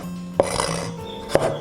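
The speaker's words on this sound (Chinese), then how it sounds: "葱白切小粒。" A knife chops scallion whites into small pieces on a board, two sharp distinct taps about a second apart, close and clear.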